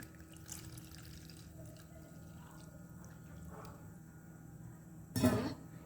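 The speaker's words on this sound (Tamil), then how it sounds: "இப்போ வந்து எல்லா பாலையும் நாங்கள் விடுவோம்." Milk poured into a cooking pot: faint drips and trickles, then a brief, close liquid splash near the end, with no speech.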